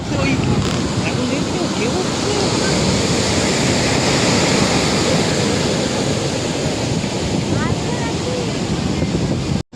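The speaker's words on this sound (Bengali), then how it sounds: "এখানে আমরা দাঁড়িয়ে ঢেউ দেখছি, এত সুন্দর ঢেউ দিচ্ছে" Continuous roar of waves surging and breaking on a shore, loud and close, mixed with gusty wind buffeting the microphone.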